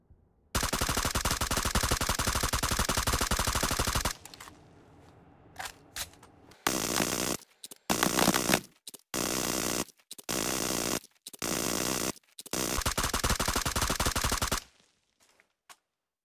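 Bursts of sustained automatic fire from a 5.56mm support gun in the mobile shooter New State Mobile, a long loud opening burst followed by a string of shorter bursts with brief gaps, near and alone.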